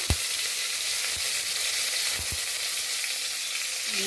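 Steady, loud sizzling of curry leaves and dried red chillies frying in hot oil with popped mustard seeds, with a few sharp pops and crackles scattered through, no voices.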